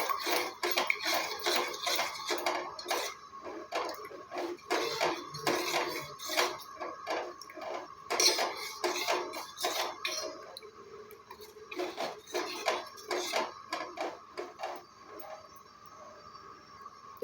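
Metal utensil scraping and clinking against a pot of oil in steady, repeated strokes, close up, with no voices.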